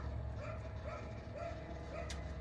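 A dog barks in a short series of sharp yips and woofs, fairly faint and somewhat distant, over a low background hum.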